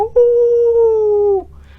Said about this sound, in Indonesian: Kalau denger itu awalannya tuh pasti ada gonggongan anjing, lolongan anjing tuh.